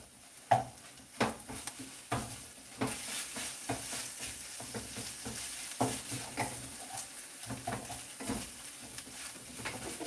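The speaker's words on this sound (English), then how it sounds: "Now we stir this all up." A tuna melt mixture being stirred in a bowl, with a spoon giving repeated scraping taps and soft clinks at an uneven pace, close and fairly quiet, with no talking.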